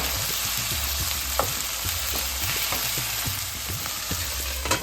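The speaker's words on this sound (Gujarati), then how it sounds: "સ્વાદ અનુસાર મીઠું, સારી રીતે બધું હલાવી લો।" Tindora (ivy gourd) and potato curry frying in a pan for Gujarati shaak, a steady sizzle with repeated scraping stirs of a spoon through the vegetables, close and clear with no talking.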